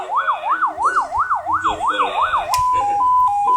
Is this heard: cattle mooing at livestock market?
no